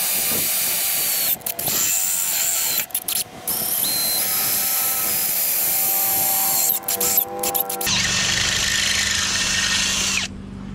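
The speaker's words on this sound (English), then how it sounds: "I can give myself a nice straight drill all the way through the metal." A power drill with a 3/8 bit bores straight through metal while a compact tractor loader valve is mounted, a loud, high whining spin broken by several short stops before a final rougher burst.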